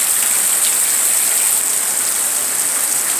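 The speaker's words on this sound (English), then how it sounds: "raining really hard. This is the first rain we've had in about almost a year." Heavy rain pours down steadily as a dense, loud, continuous hiss, the first real rain in almost a year, with no voices heard.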